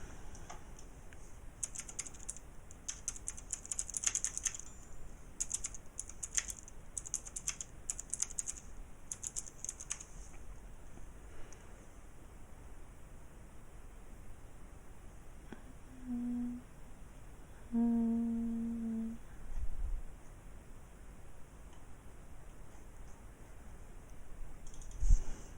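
Typing on a computer keyboard, a dense run of quiet clicking keystrokes through the first ten seconds, then sparse keypresses with a couple of brief tones later, heard alone at low level without speech.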